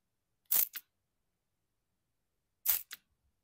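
A spray can or bottle gives two short, sharp hissing bursts about two seconds apart, close and clear against silence.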